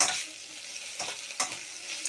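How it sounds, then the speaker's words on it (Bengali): Vegetables for egg chowmein sizzle in a hot pan while a utensil stirs and scrapes them a few times. "এখানে আমার সবজিটা একটু ভাজা ভাজা হয়ে এসছে"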